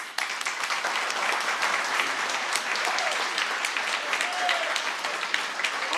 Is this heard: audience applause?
yes